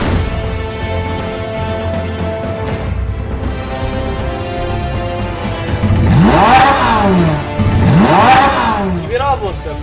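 Cartoon motorcycle, the Mac GB Moto, revs up in a series of swooping, rising and falling engine whines, two loud surges close together following a steadier engine hum, with speech mixed in.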